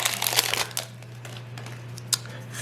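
A trading card pack wrapper for Magic: The Gathering is ripped open by hand, giving a burst of close, crackly plastic crinkling at the start, then a few quieter rustles and one brief crinkle later, with no talk.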